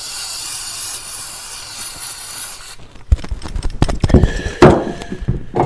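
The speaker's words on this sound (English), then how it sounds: "So on the other side, we want to make sure we spray that good." A steady, loud aerosol spray of carburetor cleaner onto a Generac SVP 5000 generator carburetor hisses for a few seconds, then cuts off, followed by clattering handling noises and a short voice.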